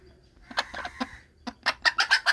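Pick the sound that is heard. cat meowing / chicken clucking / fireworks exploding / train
chicken clucking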